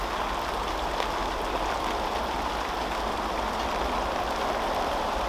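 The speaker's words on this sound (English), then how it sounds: "it's now chucking it down rain" Heavy rain pouring down, a dense continuous hiss of drops on surfaces, steady and loud, with no voices.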